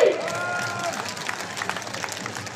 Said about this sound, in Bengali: আমরা একটু সবাই করতালি দিয়ে